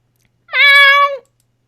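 A single cat meow from the Hustle Cat video game, clear and close, rising and holding for about a second before trailing off, alone against silence.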